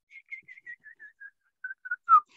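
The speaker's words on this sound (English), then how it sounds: "they have that downward whistle" A canyon wren gives its song, a run of clear whistled notes that step steadily downward in pitch, then a brief pause and a few closing notes, heard alone against silence.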